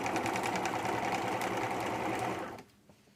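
A sewing machine stitching a seam on a pair of jeans runs in a fast, steady whirring rattle, loud and near, then winds down abruptly and stops near the end, with no voices.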